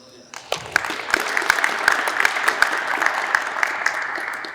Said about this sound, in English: So round of applause for